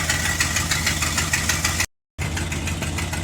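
A car engine idles steadily after a cold start in freezing weather around 30 degrees, a low, even rumble with a faint knock that runs continuously, cut by one brief silent gap before resuming.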